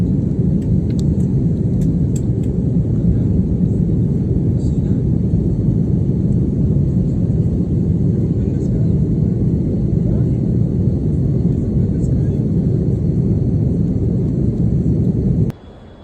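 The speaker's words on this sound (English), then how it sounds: "That's a plane?" A steady, loud low rumble like an airplane passing overhead continues unbroken for about fifteen seconds, then cuts off abruptly at the end.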